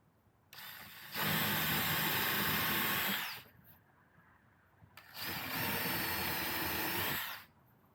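A power drill whines loudly in two sustained bursts of a few seconds each, separated by a short pause, boring holes through plywood at close range.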